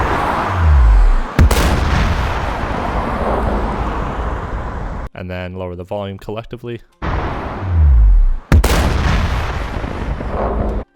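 Booming explosion effects from a sound library, built for a video game animation of a baby dragon scene: heavy low impacts with long rumbling tails, repeated, broken by a short musical passage and a voice speaking.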